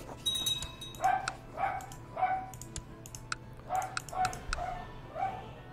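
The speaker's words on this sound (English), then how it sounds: "Dog's been a bit barky today." A dog barks in a string of short, sharp yips at a distance, several spaced barks under light keyboard tapping in a quiet room.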